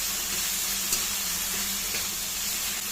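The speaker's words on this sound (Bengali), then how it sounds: "এখন কয়েক সেকেন্ড একটু ভালো করে ভেজে নেব মশলাটা।" Spice paste (masala) fries in oil in a continuous close hiss, steady and even throughout with no talk.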